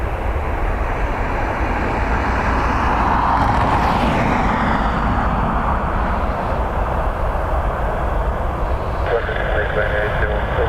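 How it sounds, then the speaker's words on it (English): A Qatar Airways Boeing 787-9 Dreamliner jet airliner rumbles steadily at an airport, a broad, constant roar that swells slightly midway and stays loud throughout. "It's a Dreamliner"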